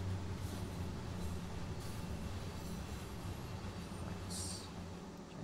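A train on the Arosa line in Train Sim World 2 runs slowly in to stop, a faint steady rumble of wheels on rail with a brief hiss near the end, fairly quiet and distant.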